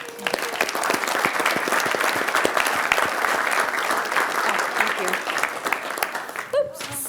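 An indoor audience at a county board of supervisors meeting gives a sustained round of clapping for an award team, dense and steady before tapering near the end.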